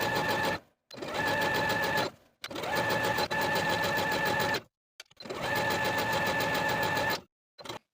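Sewing machine stitching close to the raw edge of a ruffle hem on a knit raglan tee, running in four steady bursts of whirring motor and needle hum, separated by short pauses.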